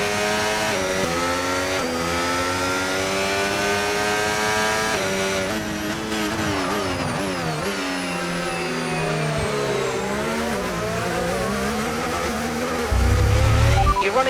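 An F1 2025 race car engine in a video game, a Belgium sprint race, screams steadily throughout with rising and falling gear-change sweeps, loud and close, alone without talk.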